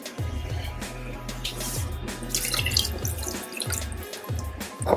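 Water pours into a Compact Cook electric pressure cooker as the last ingredient after wine, a steady close trickle and splash running through the whole stretch with a few dips, no voice over it.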